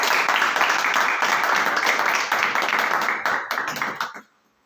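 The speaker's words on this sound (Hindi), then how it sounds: "ताली देंगे भाई।" A church congregation breaks into dense, steady applause that fills the room for about four seconds, then cuts off abruptly into silence.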